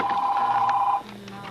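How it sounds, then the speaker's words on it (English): A telephone rings in a room, a steady electronic tone for about a second that then cuts off, followed by quieter background sound, with no talk. "obviously the phone is ringing"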